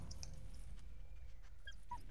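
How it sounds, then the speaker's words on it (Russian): A dog whimpers softly in the Valiant Hearts war video game, a few faint high whines and yips over a low steady game ambience. "Чё собака тут?"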